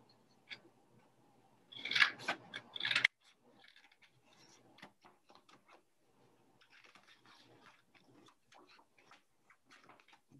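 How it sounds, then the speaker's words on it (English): Scissors snip through stiff paper in a few crisp bursts, followed by softer, scattered crinkling and cutting sounds close by. "So I'm going to cut it right on the fold with my scissors."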